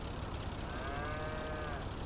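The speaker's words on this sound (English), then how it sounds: "we've got the cows climbing in" Cattle moo in Farming Simulator 22, a drawn-out low call rising over a steady game-engine hum, fairly quiet and with no voices over it.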